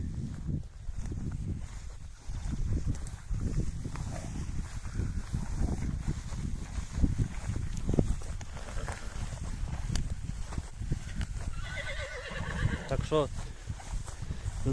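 A working horse whinnies loudly near the end, after steady hoof clops and shuffling; people talk throughout in the background.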